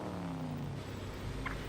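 A car engine hums steadily in Battlefield 4 while the vehicle drifts, a low continuous drone with a faint rising tone and a brief higher squeal near the end.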